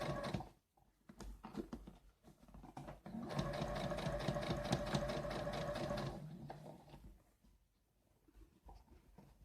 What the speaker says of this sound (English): I don't know why I choose this machine, but I am already on it